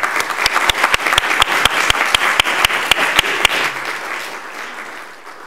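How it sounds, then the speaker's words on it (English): Applause from an audience at a school board meeting, with distinct regular claps from a nearby pair of hands standing out over general clapping that fades away toward the end. "And a round of applause as they make their way down."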